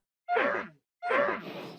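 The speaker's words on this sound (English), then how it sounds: "A sound for a panda refusing to breed." Two breathy grunts or sighs in a row from a Minecraft panda refusing to breed, the first short and the second longer, close and moderately loud.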